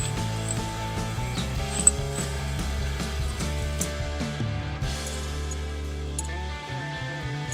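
A brake caliper piston tool on a VW Jetta's Brembo brakes is spun by hand, producing steady close mechanical ratcheting and whirring with faint metallic ticks, alone and fairly quiet.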